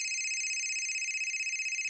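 A phone rings with an incoming call, a steady electronic tone pulsing evenly and continuously at moderate volume, alone with no voices.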